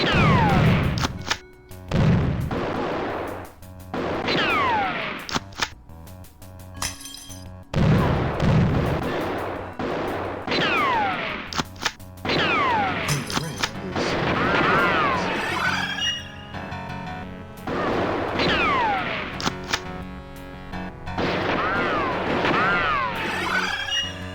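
Repeated gunfire and heavy blasts from the shooter game Eraser: Turnabout, loud bursts recurring throughout with sweeping electronic tones and effects between shots, no speech.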